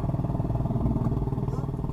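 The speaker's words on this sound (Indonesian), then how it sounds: "Aduh, sudah simpangan dengan motor itu." A motorcycle passes close by a car on a narrow village road in Kedungwringin, its engine buzzing loudly and steadily for a couple of seconds.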